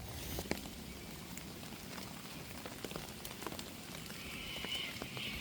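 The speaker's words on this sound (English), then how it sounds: "I think the rain's not really going to go away" Steady rain from Cyclone Alfred patters on surfaces in the bush with scattered drips, a constant close hiss without voices.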